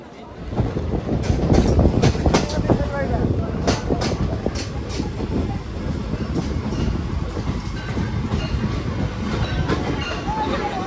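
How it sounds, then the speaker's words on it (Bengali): A passenger special train pulls out of Palashi station, a broad continuous rumble with rhythmic wheel clatter and wind buffeting the microphone, loud and close from on board. "তো ট্রেন ছেড়ে দেবে, ট্রেনে উঠি।"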